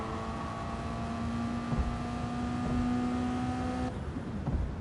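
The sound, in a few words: race car engine cutting out, video game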